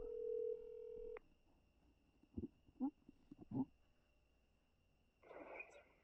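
Outgoing telephone call ringing while waiting for someone to answer: a steady tone opens and stops, then quiet, faint ringback bursts sound at intervals with a brief louder burst near the end.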